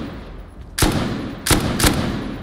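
Gunfire in the survival game Rust during an island siege: three sharp, loud shots in an uneven rhythm over a low background rumble.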